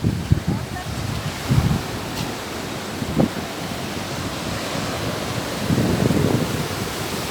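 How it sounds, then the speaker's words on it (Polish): Waves of the Indian Ocean wash onto the Tamil Nadu shore with broad hissing surges and wind buffeting the microphone, and a bigger swell builds near the end. "Jeszcze trochę Indyjskiego Oceanu,"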